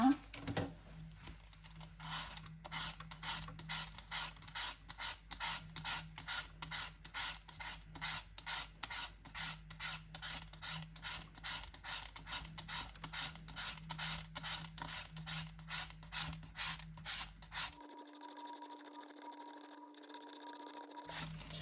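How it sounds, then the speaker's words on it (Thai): Green papaya being grated into shreds for som tam, a rapid run of rhythmic scraping strokes, close and loud, that stops near the end and leaves a quieter hum. "เดี๋ยวเรามาขูดมะละกอกันนะคะ"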